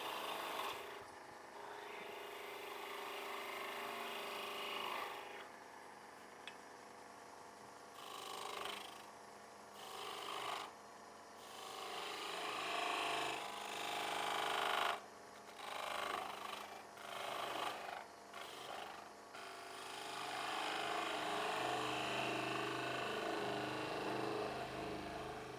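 A skew chisel cuts a spinning wooden ring stand on a lathe to even up the end, giving a continuous rough, hissing scrape that rises and falls with brief pauses between passes.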